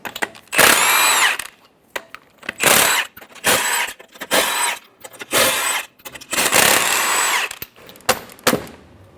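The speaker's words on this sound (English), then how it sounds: "Using a 22mm socket, remove the 6 lug nuts." Power tool with a 22mm socket spinning off the six lug nuts on a 2014-2018 Chevrolet Silverado 1500: repeated loud whirring bursts, each a second or so long with short gaps, close and without talk.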